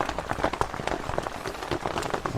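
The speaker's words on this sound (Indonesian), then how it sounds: "Cuman hujan nggak reda-reda." Rain falling on a camping tent on an island, a dense, steady patter of drops close overhead with scattered sharper taps throughout and no voices.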